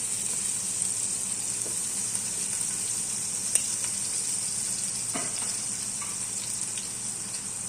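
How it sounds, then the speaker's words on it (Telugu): Thinly sliced onions fry in hot oil for a vegetable chicken curry, giving a steady, bright, continuous sizzle with a few faint stirring clicks underneath. "ఆయిల్ వేడెక్కిన తర్వాత సన్నగా కట్ చేసి పెట్టుకున్న ఉల్లిపాయలు కూడా వేసేసుకుందాం"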